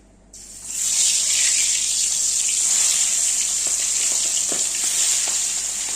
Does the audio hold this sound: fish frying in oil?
yes